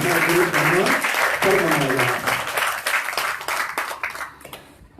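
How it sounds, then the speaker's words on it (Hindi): An audience at a Hindi devotional discourse claps after a voice speaks at the start; the dense clapping swells, then thins and fades toward the end. "रामकथा सेवा समिति को दो बार ताली बजाइए।"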